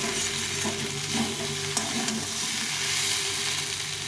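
A vegetable curry fries in a pan, a steady close sizzle with soft scraping as a utensil stirs it, continuous throughout and with no talking.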